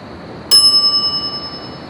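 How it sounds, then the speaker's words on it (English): A shop counter service bell in The Secret of Monkey Island video game is struck once, giving a bright, clear ding that rings on and slowly fades over a quiet background hum. "some idiot's already ringing that stupid bell"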